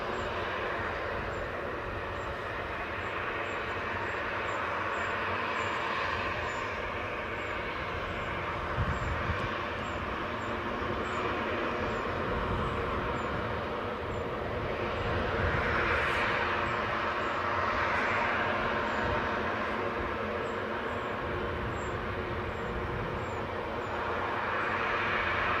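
A departing airliner at Newcastle airport bound for Faro produces a distant, steady broadband engine roar that swells gently in waves for the whole stretch, with no voices over it.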